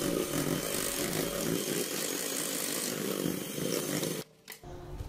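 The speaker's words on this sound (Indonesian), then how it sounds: "Kemudian kita lanjut e, mixer menggunakan speed air rendah asal rata aja" An electric mixer on low speed beats chocolate roll cake batter with a steady, buzzing motor whir for about four seconds, then shuts off, leaving a couple of faint knocks.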